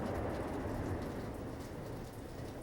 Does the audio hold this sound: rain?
yes